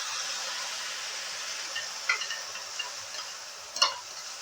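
Green chili paste fries quietly in a pan with a soft, steady sizzle. A few light stirring scrapes and clicks punctuate it, the sharpest near the end.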